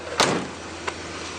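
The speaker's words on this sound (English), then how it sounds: "the doors shut just killer" A car door with a 318 engine shutting nearby, a single solid thump followed by a fainter second click a moment later, no talking.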